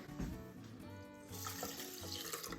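Water pours steadily into a rice cooker pot holding rinsed sushi rice, a close, soft stream splashing and gurgling for a couple of seconds.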